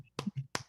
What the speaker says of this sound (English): I don't know if you can hear me clapping